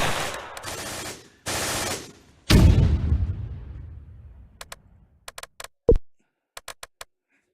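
Gunfire in Close Combat, a tactical war game with an orchard and hedgerow: loud rapid bursts of machine gun fire, then a heavy boom that rolls away and fades, followed by a scatter of sharp distant clicks.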